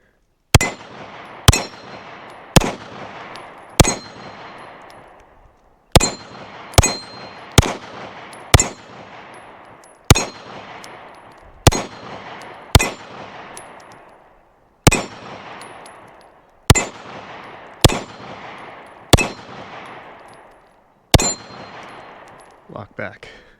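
A Girsan MC35 PI LW pistol fires in loud, sharp, close reports, grouped in quick strings of two to four shots with brief pauses and ringing decay, about fifteen rounds in all.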